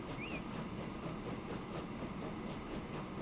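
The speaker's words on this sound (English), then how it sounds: "You have the trains going in and out of the marshalling yard." Trains rolling in and out of a marshalling yard in the video game Transport Fever 2 give a steady, continuous rumble with faint rhythmic clatter and a brief high squeal near the start, moderately distant and with no talk over it.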